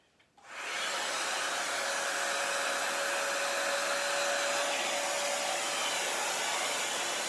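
A small handheld heat dryer clicks on and settles into a steady, close whirring hiss with a faint whine, running continuously while drying paint.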